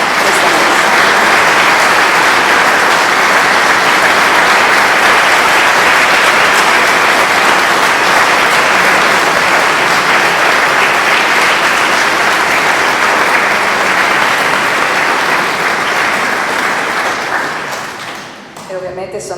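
An audience at a Mass performance applauds the composer with loud, sustained, dense clapping that fills nearly the whole stretch, then thins and fades away at the end.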